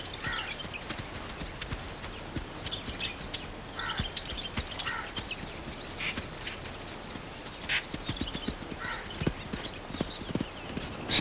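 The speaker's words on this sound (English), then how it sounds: "Stallions battle for dominance." Horses, mares and stallions, move across the Indian desert with irregular hoof clops, while crickets chirp steadily in the background.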